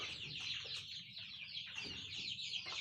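A 32-day-old tiger-breed chick clucks in a steady, close, moderately loud stream of chattering calls, with no talk over it.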